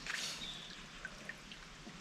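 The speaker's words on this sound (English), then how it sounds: "I wonder if this microphone on here can pick up the sound of that water if I'm very quiet" Creek water trickles and drips outdoors, a soft steady babble with a few brighter drip plinks, faint and fairly distant, with no voices.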